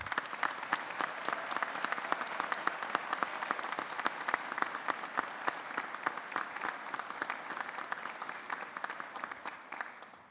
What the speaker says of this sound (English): Let's applaud their success as well.